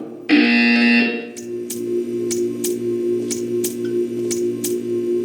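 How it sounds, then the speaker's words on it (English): Loud synthetic buzzer in a Portal 2 art test chamber: a harsh, steady electronic tone lasting about a second, followed by a humming machine drone and a series of short rhythmic clicks. "You will hear a buzzer."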